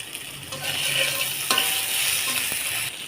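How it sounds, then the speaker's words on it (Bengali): Potato pieces fry in ghee with turmeric and salt in a kadai, a steady crackling sizzle broken by a few stirring scrapes and knocks, close and fairly loud. "এখন আমি আলুটা আমি হলুদ লবণ দিয়ে ঘি দিয়ে ভেজে নিচ্ছি।"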